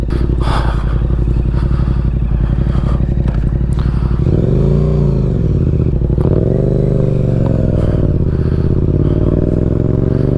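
A Yamaha MT-07 motorcycle with a full Akrapovič exhaust system riding, its engine loud and close throughout, with rising and falling revs as it accelerates and shifts.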